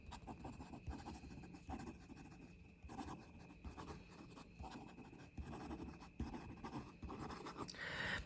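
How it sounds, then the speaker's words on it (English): Jinhao 65 fountain pen with a stiff nib writing quickly on paper, a soft, continuous scratching and rubbing of nib on paper in short bursts, close and quiet with no talking. "Quick writing."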